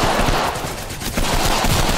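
Dense, loud gunfire in the video game Apex Legends, a continuous rapid automatic barrage with a brief dip midway, filling the whole stretch with no talking.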